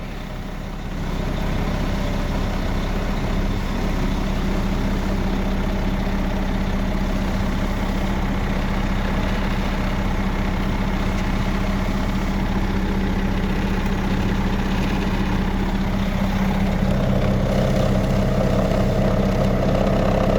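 A 2005 Sterling crane truck's diesel engine idles steadily with a deep, continuous rumble and vibration, heard close up and alone for the whole stretch.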